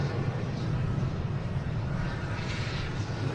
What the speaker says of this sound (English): Here's United taking off heading to Houston.